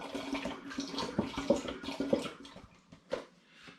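Apple juice from concentrate poured into a container for a hard-gums turbo cider, a fairly close splashing, gurgling pour with uneven bursts that fade toward the end.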